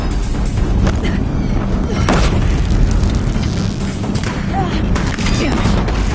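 Deathbringer weapons firing in a PS4 game, heavy booms and explosions pounding near a bridge amid a thick, steady wall of battle noise.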